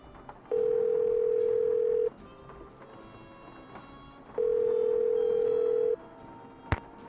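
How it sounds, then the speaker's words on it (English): A phone ringback tone in the video game Nancy Drew: Legend of the Crystal Skull sounds twice, each a steady electronic tone about one and a half seconds long, with quiet background noise and a sharp click at the end. "Let's call this Chaz Milo guy."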